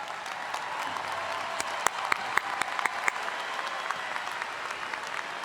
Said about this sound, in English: Let's give another round of applause for College of Business